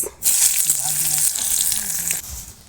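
Onions sizzle steadily in hot oil after a cumin tempering, a close, crackling hiss that holds for a couple of seconds before cutting off.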